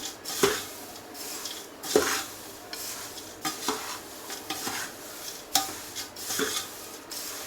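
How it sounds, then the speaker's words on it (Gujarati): Thin poha chevda is tossed and stirred from top to bottom in a pan, giving repeated rustling, scraping strokes with sharp clinks of the spoon against the metal roughly every second. "હવે ઉપરથી નીચે આપણે આવી રીતે બધું હલાવી દેવાનું છે, મિક્સ કરી દેવાનું છે."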